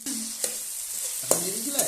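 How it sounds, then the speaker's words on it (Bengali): Capsicum pieces fry in a hot pan with a steady close sizzle, while three scraping strokes of a spatula stir them, each briefly louder than the hiss; there is no talking. "দিয়ে দিয়েছি সব ক্যাপসিকামগুলো, এগুলো একটু নেড়ে চেড়ে ভেজে নেব।"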